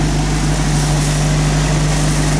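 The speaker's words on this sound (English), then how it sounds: "by plugging that back in, it's now idling by itself. It's now idling." A 1985 Jeep CJ-7 Renegade engine idles on its own, a steady loud droning hum with a constant low tone and no talking over it.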